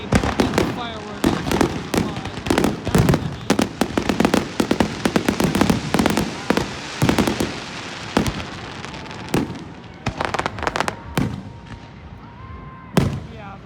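Fourth of July fireworks burst in a dense series of sharp, loud cracks and booms, some rapid volleys and scattered single bangs, with faint voices in the background.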